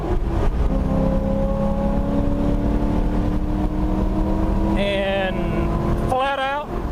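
A race car engine runs at full throttle on a road course, sustained and near, with a gear shift partway through followed by a rising revving whine; a voice speaks over it.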